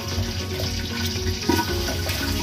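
Running water rinses baby back ribs, a steady close splash and trickle with a brief louder slosh midway.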